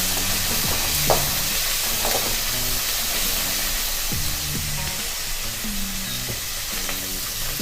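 Vegetables such as carrots and beans with curry leaves and coriander being sautéed in a pan for semiya kichadi, a continuous close sizzle and fry hiss broken by occasional stirring scrapes and clinks, with no talk.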